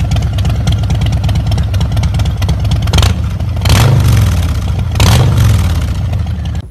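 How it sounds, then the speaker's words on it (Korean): A Harley-Davidson high-displacement V-twin motorcycle engine idles with its loping, uneven exhaust beat, loud and close, then blips into two short revs before settling back to idle. "자, 그리고 할리 데이비슨 하면 떠오르는 게 바로 배기음입니다."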